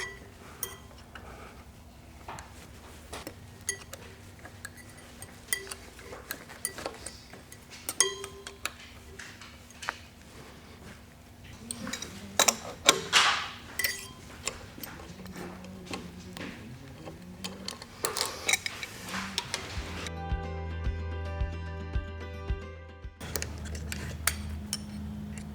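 Small metal clinks and ticking taps as shoulder bolts come out of a Big Bear material valve assembly, scattered light tool contacts at close range, with a steady hum and a brief louder mechanical buzz near the end.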